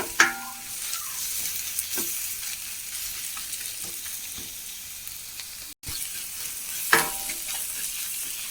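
Chilies fry in oil in a pan for a liver curry, sizzling steadily and close, with sporadic stirring knocks and scrapes of a utensil and a brief dropout midway.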